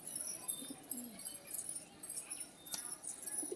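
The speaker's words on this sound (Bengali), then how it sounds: "অনেকগুলো পায়রা একসঙ্গে খাচ্ছে।" Outdoors under open sky, a flock of pigeons feeds together, giving soft scattered coos and light rustles against a faint, airy background.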